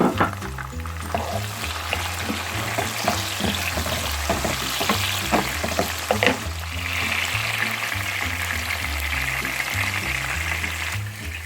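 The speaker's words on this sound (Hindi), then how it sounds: "और मैं अब ये टमाटर भी डालने लगी हूँ।" Onions and lamb fry steadily in a pan as tomatoes go in, a continuous close sizzle with stirring clatter and a brief hiss as the moist ingredients hit the hot oil.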